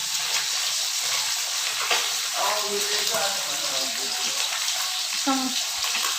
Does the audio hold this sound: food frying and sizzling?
yes